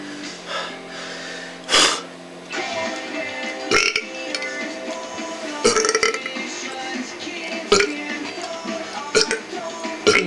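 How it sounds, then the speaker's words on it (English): A person burps over and over, a string of loud, close bursts spaced a second or two apart, with quieter breathy sounds in between. "Why won't you stop burping?"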